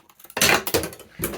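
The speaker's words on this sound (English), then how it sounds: "And throw my scissors on the floor." A pair of scissors thrown onto the floor during scrapbooking, producing a couple of sharp metallic clatters and a smaller knock close by, with no talk.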